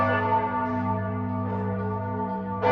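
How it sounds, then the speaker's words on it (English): Church bells ring outside a window in Florence, a steady layered peal of sustained tones that fills the whole span with no talking. "Listen to those bells outside our window."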